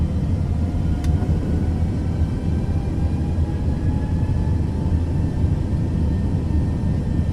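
Steady aircraft engine drone in Microsoft Flight Simulator 2024 during a full-flap landing approach at about 30 knots, a loud continuous low rumble with faint tonal hum, no speech.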